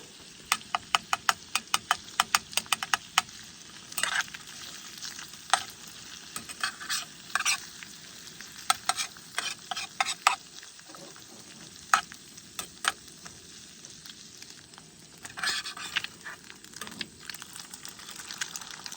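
An egg frying in a skillet over a campfire, crackling sizzle with a rapid run of pops and spits that comes and goes, close and fairly loud, no talking.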